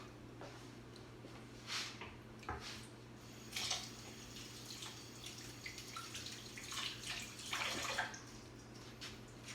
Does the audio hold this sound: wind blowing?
no